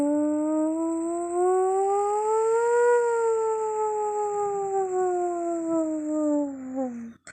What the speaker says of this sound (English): the sirens that go off when, like, the, in Silent Hill